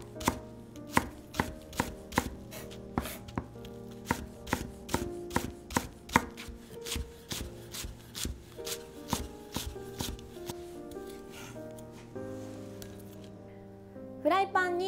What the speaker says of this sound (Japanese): 真ん中に1本切り込みを入れて、この後ろは根元は残した状態で切っていきます。